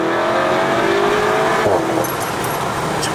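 A 400 hp Seat Leon Cupra on worn front tyres accelerates hard with wheelspin, its engine note climbing loudly and continuously, close by, with a faint squeal and no talking.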